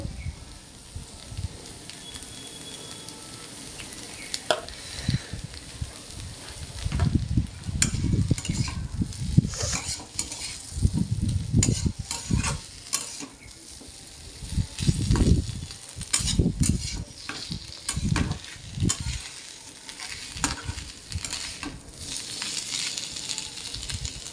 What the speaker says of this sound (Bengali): মশলাগুলো আমি ভালোভাবে কষিয়ে নিয়েছি এবার পরিমাণ মতো আদা বাটা দিয়ে দেবো